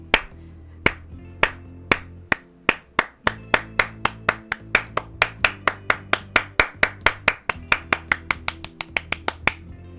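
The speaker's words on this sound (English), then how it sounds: "She begins clapping, slow at first, then faster and more vigorously." Sharp, distinct hand claps in the video game Dream Daddy, starting slow and spaced, then quickening into a steady, faster rhythm, close and clear against a soft music bed.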